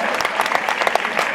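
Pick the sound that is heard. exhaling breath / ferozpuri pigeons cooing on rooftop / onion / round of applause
round of applause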